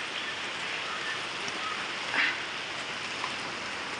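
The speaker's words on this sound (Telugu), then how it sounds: "ఇక్కడ వర్షం వస్తుంది అనమాట" Steady rain falling outdoors near a house, an even soft hiss that stays constant throughout, with no talk.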